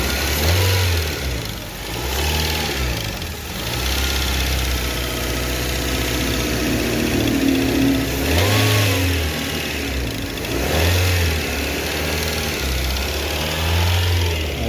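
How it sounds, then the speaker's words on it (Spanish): A car engine running with the alternator belt removed is revved repeatedly: loud, close rises and falls in pitch over a steady idle, several blips in uneven succession with no talking. "Acelera."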